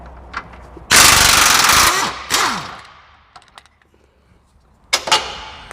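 A pneumatic impact wrench rattles off a bolt during a chassis brace install on a 2015-20 Ford Mustang: one long loud hammering burst, a shorter second burst, then a brief final rattle after a quiet pause.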